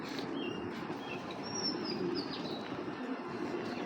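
Pigeons call faintly, with a few soft chirps and light coos over a quiet, noisy background.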